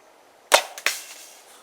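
A Pocket Shot arrow kit looses an arrow tipped with a judo point in freezing outdoor cold, giving one sharp snapping release followed by a second quick thwack, with quiet surroundings before and after.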